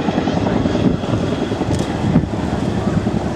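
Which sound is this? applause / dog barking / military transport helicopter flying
military transport helicopter flying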